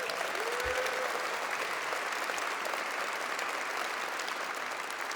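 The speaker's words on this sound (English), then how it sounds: "Let's give them a round of applause." Audience applause fills the room at a governor's remarks at an MTA Transit Challenge event, a steady, dense clapping that holds evenly for about five seconds with one low thump early on and no speech over it.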